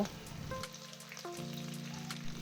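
Onions and capsicum hit hot oil with minced garlic in a pan for a chilli soya bean dish, giving a soft, rain-like sizzle under quiet tonal background music.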